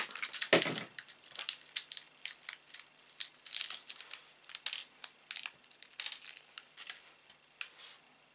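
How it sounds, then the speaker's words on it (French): A cutter slicing open a small plastic bag of screws, a close run of sharp crinkling, snipping and crackling bursts for several seconds, with no talking. "Je vais avoir besoin de mon cutter pour ouvrir le sachet de vis."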